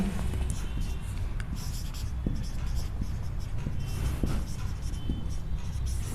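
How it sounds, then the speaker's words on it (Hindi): Pen or marker writing out the full form of GD&T during an engineering drawing lesson, a steady soft scratching with short strokes and taps, heard alone against a constant room hiss. "इसकी मैं फुल फॉर्म लिख देता हूँ यहाँ पे।"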